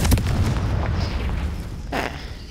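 A Confringo fire spell bursts in the Hogwarts Legacy video game, a short loud blast that flares briefly near the end over a steady rumbling game background.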